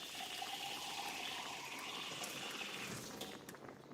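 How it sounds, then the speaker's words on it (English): Water runs steadily into a pot of vegetable soup, a continuous close gushing pour that tapers off near the end, quiet overall with no speech. "Now I'm going to add some water."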